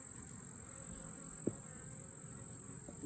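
Honeybees buzz around an open beehive during an inspection. A dense, continuous droning hum holds steady throughout, with one faint tap near the middle and no talking.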